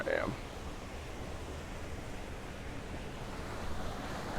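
Small waterfalls in Bali pour in a steady, close rush of water that stays even and unbroken throughout, with a brief faint sound near the start.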